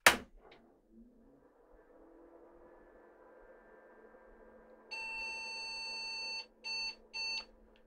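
An IBM 5150 personal computer under repair powers on with a clunk, a faint hum, then one long loud electronic beep followed by two short beeps.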